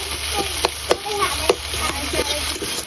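Onions fry in a pan for a desi chicken kassa, making a constant close sizzle broken by sharp spatula scrapes and knocks as they are stirred.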